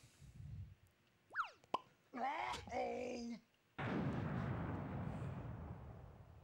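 A bomb blast in the Link: The Faces of Evil video game during a boss fight: a few short chirps and a groaning voice-like cry, then a loud, sudden burst of rushing noise that roars on steadily to the end.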